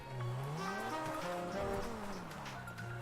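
Fastest modded car in GTA 5 accelerating during a speed test, a continuous engine note sweeping up through the gears with shifting pitch and faint tire noise, loud and sustained throughout.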